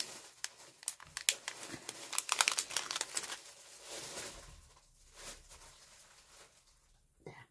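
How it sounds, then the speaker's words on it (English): Crinkly rustling of plastic and paper packaging as a dog moves about in discarded packaging on the floor, coming in bursts, close by, fading to softer shuffling near the end. "You can hear that rustling. That's my dog now, amongst all the rubbish that I've thrown on the floor"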